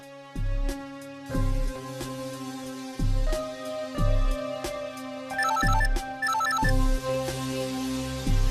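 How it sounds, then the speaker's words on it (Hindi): An electronic ringtone plays a repeating melodic pattern with steady beats and brighter chiming accents, loud and continuous with no voices over it, in a scene from a Hindi TV serial. "डीके, मेरा फोन क्यों काट रहे हो? प्लीज मेरा फोन उठाओ"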